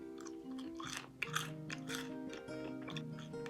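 Someone chews a piece of Asian carp swim bladder, close, wet, rubbery bites and squelches in a steady rhythm, with faint background music underneath.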